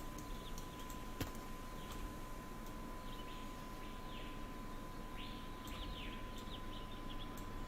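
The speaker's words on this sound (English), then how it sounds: "You know, you hear the birds." Small birds chirp faintly in the background of the zoo-building video game Planet Zoo, brief scattered calls over a steady ambient bed with occasional light clicks.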